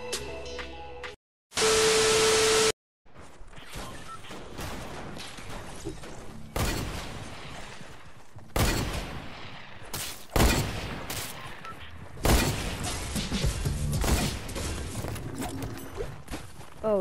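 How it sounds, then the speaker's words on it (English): Sniper rifle shots ring out during a video game shootout, several sharp loud cracks spaced apart over a hissing, static-laden background, with a burst of noise and a steady tone near the start. "let's get into a sniper shootout"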